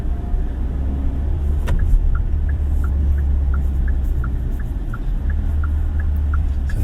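A 2024 Kia Seltos SX cruising with a steady low road and engine rumble, a small ticking clicking at even intervals over the drone, and one brief sharper transient partway through.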